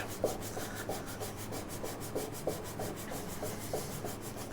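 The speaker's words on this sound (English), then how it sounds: "I'm just going to sand it by hand." Hand sanding a car door interior on a Suzuki Wagon R+ with folded 180 grit sandpaper, a soft, close rhythmic rubbing of repeated back-and-forth strokes at a steady pace.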